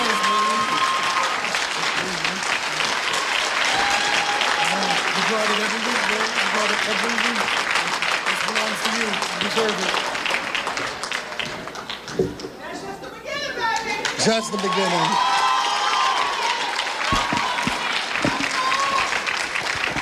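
Dense, sustained applause from an audience at a startup accelerator landing ceremony, loud and continuous for most of the stretch, briefly dipping before swelling again, with a voice and crowd chatter mixed in.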